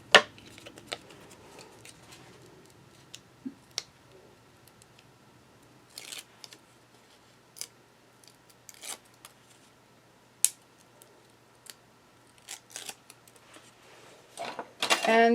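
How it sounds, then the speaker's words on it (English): Scissors trim the edge of a decoupage card to hide foam, a scattered series of small sharp snips and clicks, quiet and close, with light handling noise between cuts. "I'm going to cut a little bit off of here so we don't see that foam."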